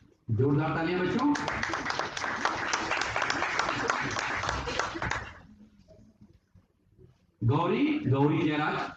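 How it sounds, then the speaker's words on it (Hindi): Children give a loud, dense round of applause to welcome a guest at a session on Indian languages, lasting about four seconds, with a voice speaking before and after it. "जोरदार तालियां बच्चों।"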